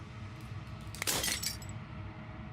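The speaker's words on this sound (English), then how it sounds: "As the final fragment of glass shatters" Glass shatters in a single bright, crashing burst that fades over about half a second, from the narrative video game Slay the Princess, over a low ambient hum with no talking.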